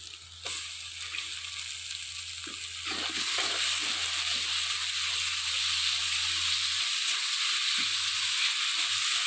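Spinach goes into a hot frying pan and sets off a loud, close, continuous sizzle that grows fuller after a few seconds, with faint stirring knocks and a low hum beneath.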